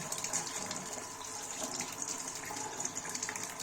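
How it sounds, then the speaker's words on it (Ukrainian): Hot water runs from a tap in a house's plumbing setup, a steady close hiss and splash that holds throughout with no voices. "в эту сторону открываем и получаем горячую воду"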